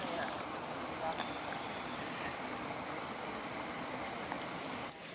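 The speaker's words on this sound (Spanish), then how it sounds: "Miren esto. Miren las cascadas." Garden waterfall cascades pour in a steady broadband rush, soft and somewhat distant, with a person speaking faintly nearby.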